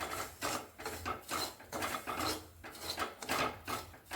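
Semolina lightly dry-roasted in a karai on the stove, stirred with a steady rhythm of about eight raspy scraping strokes against the pan, close and fairly quiet with no voices.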